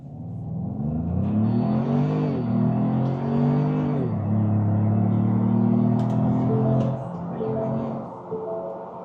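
A 2025-2026 Ford Maverick pickup accelerates up to highway speed, its engine note climbing steadily through rising harmonics, dropping briefly at each gear change, then pulling again with a loud, continuous drone heard from inside the cabin.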